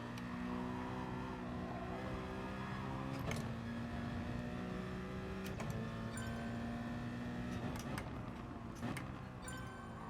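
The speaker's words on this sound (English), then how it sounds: "this car, you just literally, you can just drive it around like no revs and it'll still accelerate." A race car engine drones and accelerates in GT Sport, a steady loud tone climbing through gears with brief shift breaks, continuous and close throughout.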